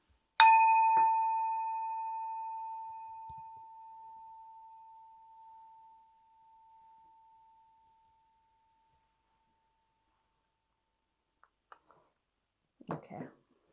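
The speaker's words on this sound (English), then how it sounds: "I am going to ring this bell as well to clear some energy." A single bell is struck once and rings out clearly, its bright tone decaying slowly over several seconds into silence, followed later by a few faint soft sounds.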